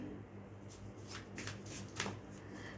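A deck of cards being shuffled, soft quick riffling bursts close by, faint overall against a low steady background hum.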